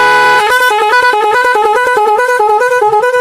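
Another preset on a magic horn plays a loud warbling tone that alternates rapidly between two pitches in a steady rhythm for about three seconds, with no voices.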